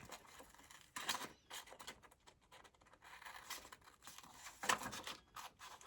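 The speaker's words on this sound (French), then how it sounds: "moi, c'est les ciseaux Cricut." Cricut scissors cut paper for a collage art journal page, giving a few soft, close snips and rustles, with the sharpest cuts near the start and end.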